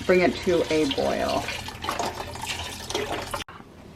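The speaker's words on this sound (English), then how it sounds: "I'm just going to pour this fat-free chicken broth into the mixture and then bring it to a boil" Fat-free chicken broth is poured over softened onions in a cooking pot, a steady liquid splash and gurgle that follows a brief stretch of talk and runs for a few seconds before cutting off.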